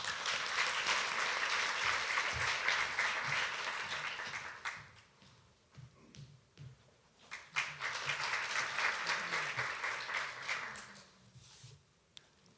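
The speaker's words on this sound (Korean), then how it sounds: "뜨거운 박수 부탁드립니다." Audience applause at a Korea University forum welcoming the opening address, sustained clapping that fades in the middle, then swells again before trailing off, with brief talk in the gaps.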